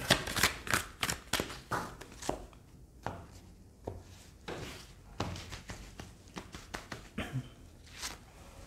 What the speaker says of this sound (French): je vais décaler un petit peu les cartes, sinon je n'aurai pas la place